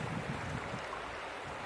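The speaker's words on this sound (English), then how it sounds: "Sound of the river." A river flows outdoors among pine trees, making a steady broadband rush with some wind buffeting the microphone, continuous and fairly loud with no voices.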